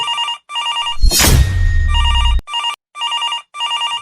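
A mobile phone rings loudly with a repeating electronic ringtone in short bursts, interrupted midway by a brief burst of loud rustling noise before the ringing resumes.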